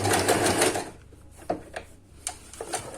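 An electric sewing machine stitches a backtack as a fast, close mechanical whirring burst, then pauses and gives short clicks and brief runs as the fabric is reversed and stitched back.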